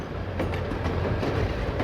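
A Royal Mail overnight train from Glasgow to London rumbles steadily along the rails in 1963, with a continuous low rolling drone and faint rhythmic clatter from the wagons throughout.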